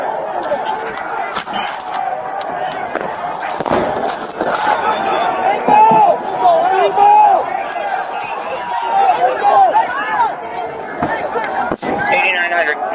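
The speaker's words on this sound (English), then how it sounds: "Very large crowd coming down High Street." A large crowd moving down High Street makes a continuous babble of voices, shouts and chanting, close and loud throughout, with a few sharp knocks mixed in.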